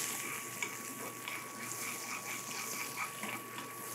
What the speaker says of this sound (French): Les oignons commencent à griller.